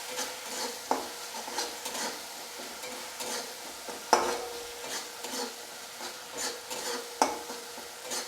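A spoon scrapes and stirs fried tomato with Kashmiri chili powder in a pan, with repeated rhythmic scrapes and a few sharper knocks over a faint sizzle, close and alone.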